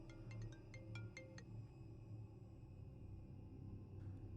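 A phone ringtone chirps in a short melodic burst within a dubbed movie scene, fairly faint over a low rumbling background hum, then fades as the scene continues without talk.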